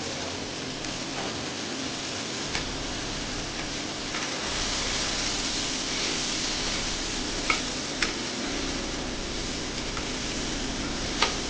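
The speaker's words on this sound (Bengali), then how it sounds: "এবার সেদ্ধ হয়ে যাওয়া সয়াবিনটাকে আমি কিন্তু ভেজে নেব।" Boiled soybean chunks fry in hot oil in a wok, giving a continuous dense sizzle at even loudness with a few sharp pops and spatters standing out near the end, no voices present.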